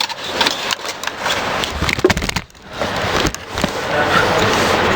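A sewing machine stitching trouser fabric, running in a loud, fast mechanical whir that pauses briefly midway and then resumes steadily.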